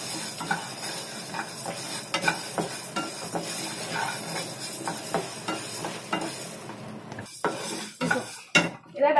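Raw rice and urad dal dry-roasted for murukku in a metal pan, stirred steadily: continuous close scraping and rattling of grains against metal with rhythmic utensil knocks, ending in a few sharper clanks.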